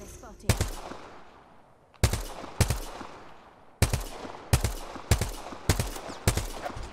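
Gunshots in the Apex Legends battle royale shooter, arriving as sharp separate reports and short bursts at an irregular rhythm, fairly close and loud, each shot trailing off into a brief ringing tail.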